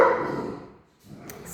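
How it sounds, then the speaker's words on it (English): Several dogs bark at close range in a short, lively burst that fades away, followed by a brief fainter rustle. "excuse the dogs."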